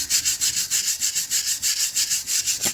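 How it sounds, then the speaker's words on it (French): A wire brush scrubs a burnt car brake caliper in quick back-and-forth strokes, a close, loud rhythmic scratching with even pulses and no voices. "nous allons mettre un petit coup de brosse métallique"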